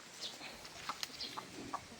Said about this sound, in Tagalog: Mga alaga ng inay na manok.